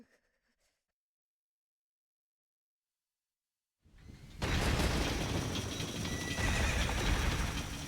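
A horse in a video game neighs and trots: after several seconds of silence, a loud burst of whinnying and clattering hoofbeats starts suddenly and continues steadily to the end.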